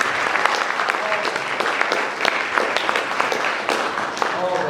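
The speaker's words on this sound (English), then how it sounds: "You need to give that an applause." Applause at a basketball hall of fame ceremony, many hands clapping in a steady, lively patter with sharp individual claps standing out, fairly close and loud, with some crowd voices mixed in.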